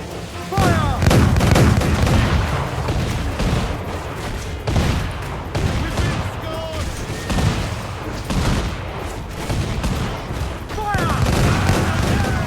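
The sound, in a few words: gunfire and cannon fire in Assassin's Creed IV Black Flag video game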